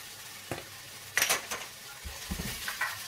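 Beef browning in a pan with garlic powder, pepper and ground ginger, giving a quiet, steady sizzle broken by a few stirring and utensil scrapes, with no voices.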